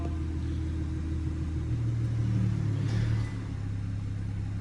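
A BMW M140i engine idles with a low, steady rumble, briefly rising a little in pitch before settling back to an even hum as it comes off fast idle after start-up.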